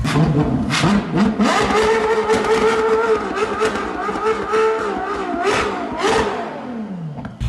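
Ferrari SF90 supercar engine revving loudly and close, with rising and falling throttle blips and a sustained harsh mechanical howl in repeated surges.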